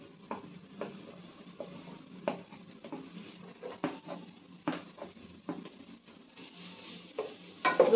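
Grated garlic frying with lightly browned onions in a pan for mutton rezala, a steady soft sizzle broken by scattered clacks of a spoon stirring against the pan, close and moderately loud, with no talking.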